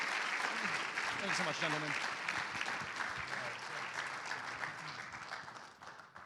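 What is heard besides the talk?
audience round of applause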